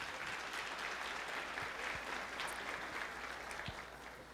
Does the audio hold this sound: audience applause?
yes